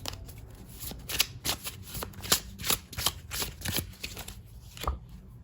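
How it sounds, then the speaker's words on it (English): Tarot cards riffled and shuffled in quick bursts of crisp, papery flutters and taps, close by, with brief pauses between. "Sorry if I was shuffling a bit too close to the camera there."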